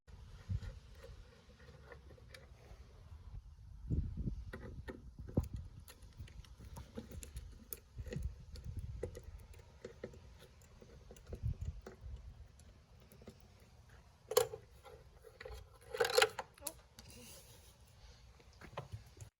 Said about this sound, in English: the taillight assembly, so my daughter Priya is just going to unscrew those right now.